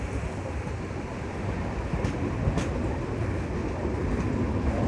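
A MEMU express train running between Narasapur and Rajahmundry, heard from inside as a steady, loud rumble and rattle of wheels on rail, with a few faint clicks over the continuous roar.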